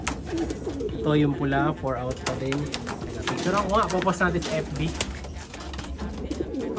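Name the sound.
pigeons cooing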